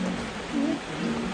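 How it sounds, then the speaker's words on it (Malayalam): Rain falls steadily outdoors, making a continuous soft wash with slight swells in loudness and no talking over it. "മഴ വന്ന ഒരു സമാധാനം ഇല്ല."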